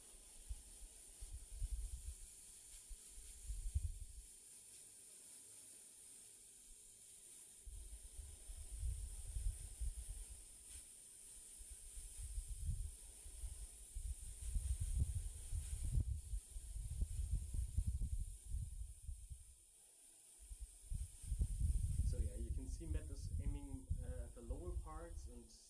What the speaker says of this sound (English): Still focusing to keep the airbrush more on the lower side of the model.